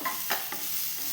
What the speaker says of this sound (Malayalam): ഇനി ഒന്ന് നല്ലോണം നെയ്യിൻ്റെ അകത്തൊന്ന് വഴറ്റിയെടുക്കാം നമുക്ക്.